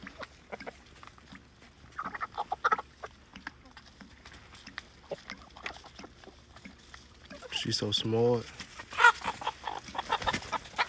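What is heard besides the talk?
chickens clucking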